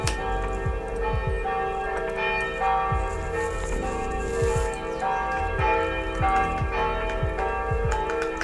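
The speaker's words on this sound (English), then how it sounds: "The bells, church bells." Church bells toll repeatedly in a steady, resonant rhythm with long ringing overtones, heard clearly and alone without voices.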